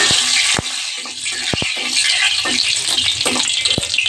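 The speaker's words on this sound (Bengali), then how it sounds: "শুকনো মরিচ দিয়ে দিই।" Dried chillies crackle and sizzle in hot oil in a wok, a steady bright frying hiss with a few sharp pops and stirring clatters, loud and close with no talk.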